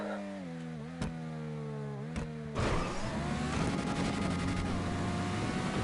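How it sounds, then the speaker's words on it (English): A stunt car in GTA V revs high as it lands off a ramp, a sustained engine whine rising after a thump, fairly faint under the game's background sound. "hear them high revs on the landing from Spartacus' car"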